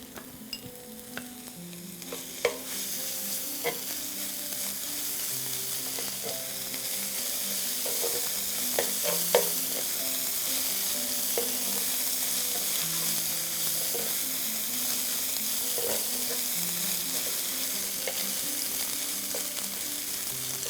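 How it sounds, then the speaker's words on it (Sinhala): Masala rice fries in a generous amount of butter, giving a constant close sizzle with repeated stirring scrapes and clinks that run through the whole stretch, and no one speaks. "විනාඩි 5-7ක් විතර බදින්න"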